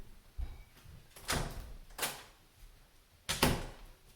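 A door is opened with several sharp knocks and thuds scattered across a few seconds, the bumps and rattles faint and somewhat distant against a quiet room.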